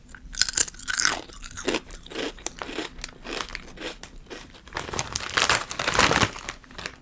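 Wavy potato chips are crunched up close, with repeated crisp bites and crackling chews in irregular bursts and a brief crinkle of packaging, no talking.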